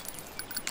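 A weapon is reloaded in Military Conflict Vietnam: a quick, faint run of small metallic clicks and rattles, over in under a second.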